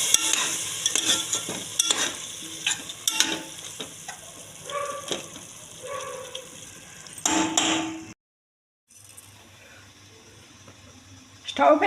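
Veg dum biryani ingredients frying in a pan, with a crackling sizzle and repeated sharp spoon stirs and scrapes against the pan, close and fairly loud, a pause of silence, then a quieter hiss resuming.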